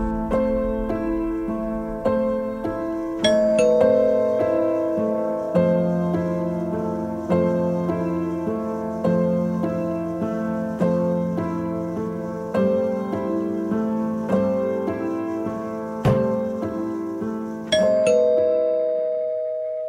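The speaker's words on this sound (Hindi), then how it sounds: "घंटी तुम बजा ही रहे हैं" A doorbell chimes again and again, each bright ding-dong ringing out and decaying every couple of seconds over a steady droning background, with no voices.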